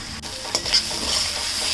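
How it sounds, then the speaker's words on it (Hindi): Chicken for spicy chicken macaroni frying in a pan, a loud, steady close sizzle with a couple of brief stirring scrapes and no voices. "ये देखिए जी, हमारा अच्छे से ये फ्राई हो गया चिकन"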